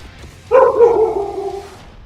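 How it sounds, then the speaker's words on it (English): A single short bark from a dog in a home, heard mid-distance during a live gaming broadcast, a brief yelp that trails off over a quiet room hum. "There's a dog in that one."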